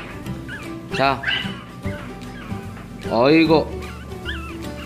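A tiny black-and-tan Pomeranian puppy gives short whimpers and high yips, close by, under someone talking softly over it.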